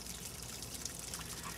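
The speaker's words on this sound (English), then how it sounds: "we will allow that to flush out the hot water tank for about 5 minutes" Steady water rushing through an RV hot water tank as city water flushes it out, a continuous close hiss and trickle with no talk.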